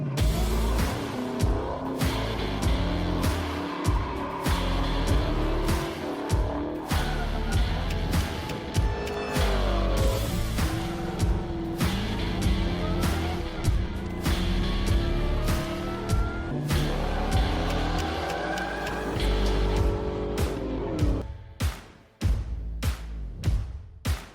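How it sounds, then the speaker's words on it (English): A 1967 Ford Mustang on its first drive with a whole new setup, its engine rumbling and revving through gear changes for a long stretch, heard close and loud throughout. "We're gonna go for a drive on the 67 Mustang."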